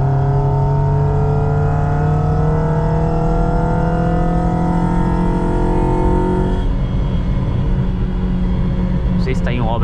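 Honda Civic Si accelerating on a track, a loud, steady engine drone with rising harmonics that drops in pitch after a shift and keeps roaring close by.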